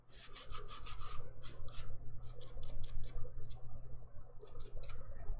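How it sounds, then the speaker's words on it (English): A brush rapidly wipes dust off dip powder nails before top coat, giving soft scratchy strokes in quick bursts with brief pauses, close and fairly quiet, over a low steady hum. "I'm just gonna wipe all the dust out before I apply my top coat so that I get a nice clean finish."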